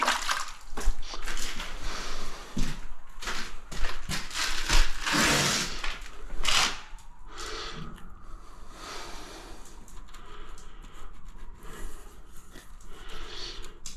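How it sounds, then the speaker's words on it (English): Hands being washed under a running tap: a steady, close rush of water with splashing and rubbing, loudest in the first half and then settling to a softer flow, with no voices. "Wash my hands."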